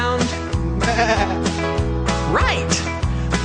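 Sheep bleat in a farm setting, several loud, wavering calls following one another in quick succession, close and clear with no talk over them.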